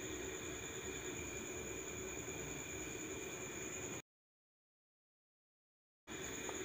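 A sewing machine stitches together the front panels of a lined princess-cut blouse, giving a close, loud, steady mechanical whirr and rattle for about four seconds. A sudden two-second silence follows before the stitching picks up again.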